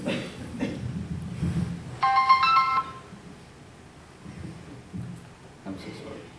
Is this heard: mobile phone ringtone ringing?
yes